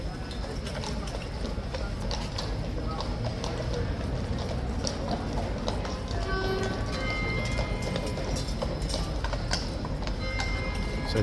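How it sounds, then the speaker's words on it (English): Hooves clip-clop on hard ground as horses file one by one into stables, a steady mid-distance clatter of irregular steps under general outdoor background noise, with people talking faintly among the hoofbeats. "in go the horses, one by one."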